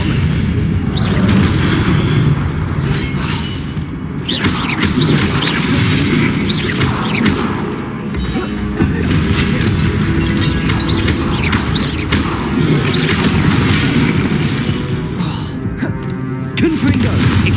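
Spellcasting in the Hogwarts Legacy video game, with Confringo, Incendio, Accio and Expelliarmus fired in quick succession, making loud booming blasts, crashes and whooshes that run almost continuously, with a voice talking over the effects.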